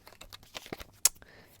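Gypsy Oracle cards being shuffled by hand: a quick run of dry papery riffles and taps, ending in one sharper snap, close and fairly quiet with no voice.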